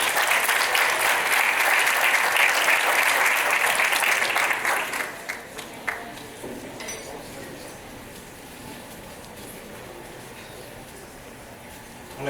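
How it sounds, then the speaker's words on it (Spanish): Audience at a Forbes Mexico impact-investment panel applauding the speakers, loud sustained clapping for about five seconds that quickly thins into scattered claps and quiet room noise with a few clinks. "Así que un fuerte aplauso para todos ellos."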